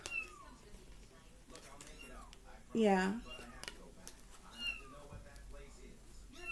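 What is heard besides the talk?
kittens meowing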